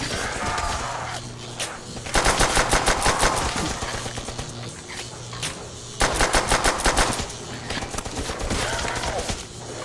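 Machine gun fire in Call of Duty: World at War on the Der Riese zombies map, two loud sustained bursts of rapid shots with scattered single shots and game noise between them.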